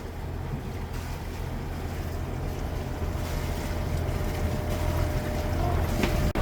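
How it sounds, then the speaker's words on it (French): Strong headwind roars steadily across a sailboat on the Intracoastal Waterway between Belhaven and Oriental, mixed with water wash and buffeting wind noise on the microphone, loud and continuous with no talking. "Vent de face. Gros vent de face."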